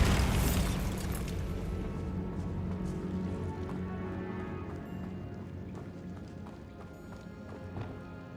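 Bombarda spell explosion in the Hogwarts Legacy video game, a loud burst at the start that decays into a long rumbling tail, with faint clattering and hoof-like knocks continuing beneath.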